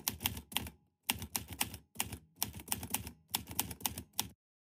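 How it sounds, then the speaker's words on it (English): A typewriter typing sound effect plays as bursts of rapid, crisp key strikes, five clusters separated by short pauses, close and clean with nothing else heard, ending in silence. "search for the Type sound effect"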